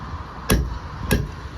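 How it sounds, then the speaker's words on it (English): Two hard, ringing hammer blows on a bolster against a concrete block, close and loud, about half a second apart. "is with the hammer and bolster"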